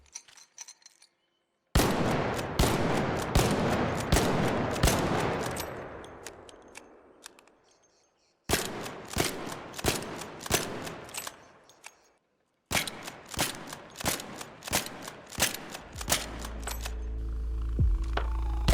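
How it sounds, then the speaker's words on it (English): Weapons in the video game Arc Raiders fire into the sky, some with silencers and some without. Three separate strings of rapid, sharp shots are split by short silences, and each string ends in a fading echo tail. "I also wanted to test how the weapons sounded with and without silencers, so here's how that sounds"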